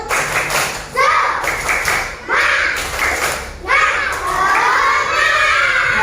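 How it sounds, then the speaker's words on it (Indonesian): Classroom of children in an Indonesian school doing a rhythmic spirit clap, sharp patterned claps in bursts mixed with loud chanting children's voices, close and energetic throughout. "tepuk semangat lagi yuk. Tepuk semangat"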